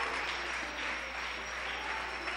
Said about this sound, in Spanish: Un aplauso a Lidia